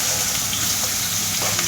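Chopped onion frying in a hot pan with cumin and garlic, a steady close sizzle with stirring scrapes throughout, no talking.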